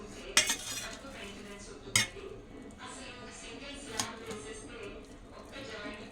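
Boiled potatoes are mashed in a metal bowl with a utensil for aloo tikki: soft squelchy pressing under a low background, punctuated by a few sharp metallic clanks against the bowl.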